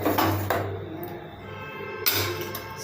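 A spoon stirring ragi porridge in a metal pot, producing soft scraping clinks of metal on metal in two brief spells, close and moderately loud, with no talk.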